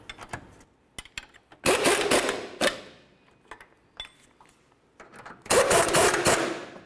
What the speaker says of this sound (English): let's bottom everything out and then torque it down